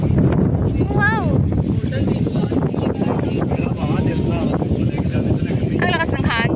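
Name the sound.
strong wind on the Shing Mun Reservoir trail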